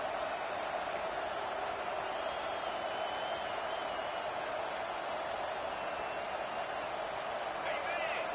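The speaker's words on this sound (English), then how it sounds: "This crowd bringing the energy and noise early" A steady wash of distant stadium crowd noise at a football game fills the space, a constant roar with faint whoops rising here and there.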